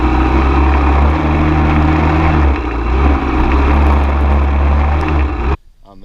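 A Honda 400EX ATV with a MotoWorks exhaust, extended rear axles, nerf bars and rejetted carburetor runs close by with a steady, loud engine drone and slight dips in pitch, then cuts off abruptly near the end.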